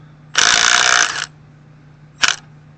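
A Craftsman 1/2-inch heavy-duty 19.2V cordless impact wrench hammers at a car lug nut in one close, loud burst of just under a second, then gives a brief second zip after a pause.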